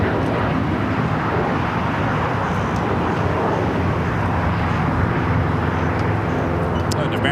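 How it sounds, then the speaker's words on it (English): An American Airlines Boeing 777-300ER pushing back at LAX gives off a steady, loud broadband engine roar that holds evenly throughout, with airport traffic noise mixed in beneath. "American 777 at 300 ER now pushing back there in the alley."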